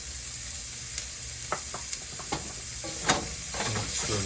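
Chopped onion sizzles steadily in a hot pan after a sprinkle of salt, a continuous close frying hiss broken by a few soft stirring scrapes and clicks.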